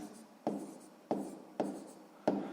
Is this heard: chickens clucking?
no